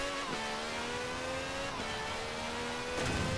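An Apollo supercar fitted with a Juggernaut engine accelerating in the racing game Forza Horizon 4, a loud continuous rising engine whine with steady harmonics and a brief gear-shift dip, heard alone with no talking.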